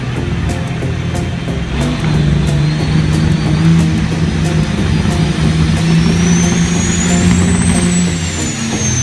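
A pulling vehicle at a tractor pull, driven as the scrapper in Salisbury, Pennsylvania, its engine a loud continuous roar with a slowly rising whine, steady throughout.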